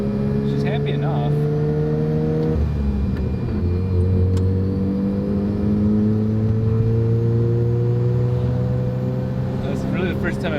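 A restored Mazda FC RX-7 street car with a turbo accelerating on the road, heard from inside as a loud, steady engine drone with rising and shifting tones, with voices talking over it.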